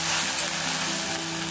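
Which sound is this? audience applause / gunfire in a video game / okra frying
okra frying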